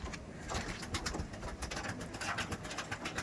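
Racer pigeons cooing inside a loft, a steady murmur of overlapping soft coos from several birds close by, with light rustling and no talk.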